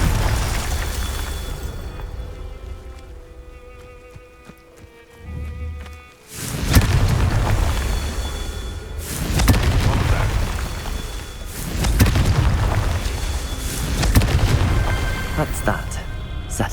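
Confringo fire-spell blasts in the Hogwarts Legacy video game, several deep booming explosions rolling out one after another amid game sound effects and music.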